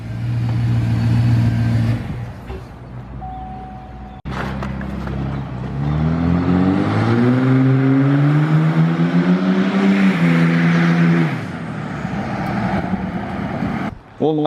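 A Cummins diesel pickup running a straight-piped exhaust on aftermarket rims idles loud and deep, then revs hard in a long rising climb, holds near the top and falls back to a rumbling idle. It is close and loud, with no talk over it.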